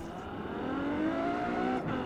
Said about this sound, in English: They actually made it sound very close to the actual car in real life in this game,